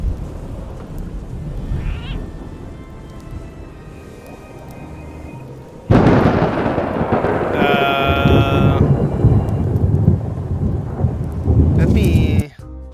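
A video game thunderstorm with lightning: heavy rain hisses throughout, then a loud crack of thunder breaks in and rumbles on. Bright tonal cries, likely cat meows, cut through the storm several times before it stops abruptly.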